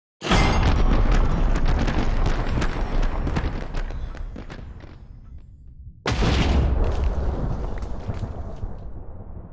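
A timed explosion from a totem in a Minecraft mod goes off with a loud, rumbling boom that decays over several seconds, then a second heavy blast follows.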